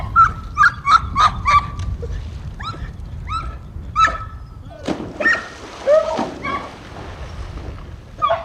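Dogs belonging to two men bark and yip outdoors on a Baltic Swedish island: a run of sharp, repeated barks at first, then scattered yelps and whimpers, fairly close and loud over a low wind rumble.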